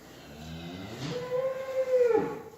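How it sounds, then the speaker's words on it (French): A farm cow that has lost her calf lets out a long, loud, drawn-out moo that rises and swells toward the end, close by and alone, with faint farmyard background. "Alors ici, on a une vache qui a perdu son veau."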